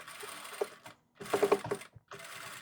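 Domestic sewing machine stitching a seam on a women's dress shirt, ending with a reverse backstitch; bursts of fast mechanical stitching separated by brief pauses, moderately close and fairly quiet.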